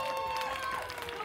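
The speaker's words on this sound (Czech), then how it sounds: "pojďme jim, přátelé, ještě jednou zatleskat, poprosím víc a zakřičet" An audience claps and cheers for a children's performance at a kindergarten harvest festival, a dense continuous wash of applause and voices, close and steady.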